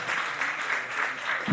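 Brief audience applause for a podcast guest at a live show, a soft, even patter of many hands clapping at moderate distance.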